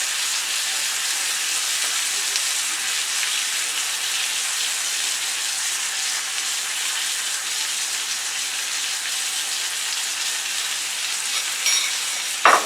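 Pork patties fry in butter in a frying pan with a steady, dense sizzle throughout as the pan is moved around, ending in a brief clatter.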